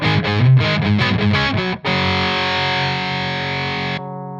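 An electric guitar plays through a Marshall DSL overdrive pedal, several quick distorted notes and then a sustained gritty chord ringing before it cuts off.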